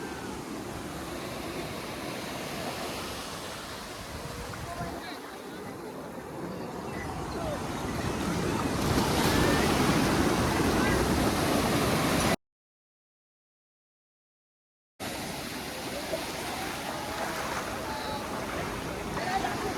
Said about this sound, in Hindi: भाई साहब ये है पुरी बीच, अलग ही सुकून है यहाँ का।